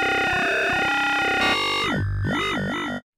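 A gritty, distorted dubstep-style synth bass made with the Meld synth in Ableton Live 12 growls and wobbles, its tone sweeping and warping before cutting off abruptly into silence.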